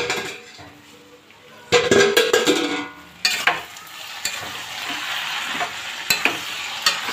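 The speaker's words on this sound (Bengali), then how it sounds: "এবার তেজ আঁচ করে ভেজে নেব" Okra masala sizzles steadily in a hot pan over high heat, with loud bursts of a spoon scraping and stirring through the pieces, alone without talk.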